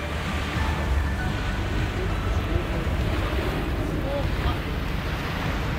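Steady broadband rush of sea surf with wind buffeting the microphone, a continuous wash of waves rather than distinct breaks.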